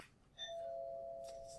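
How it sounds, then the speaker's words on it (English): A doorbell chimes once, faint and from another room, with a soft ringing tone that lingers briefly. "And that is the doorbell."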